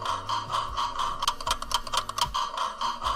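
A psychedelic clock sound effect from the Ascend sound library: mechanical ticking and ratcheting gear clicks with a warped, tonal hum underneath, sounding close and alone.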